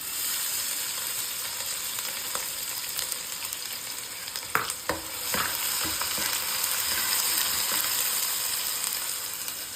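Onions and cumin seeds fry in hot oil with a steady, close sizzle, broken by a few sharper crackles and stirring clinks midway through.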